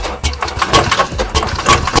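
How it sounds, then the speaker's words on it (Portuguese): An Iveco Daily 35S14 engine with a broken rocker arm, caused by a neglected timing chain kit at 370,000 km, runs close up with a steady rhythmic clatter and ticking knock over its hum. No voices are heard. "E esse barulho é do balancinho quebrado por falta de manutenção do kit de corrente."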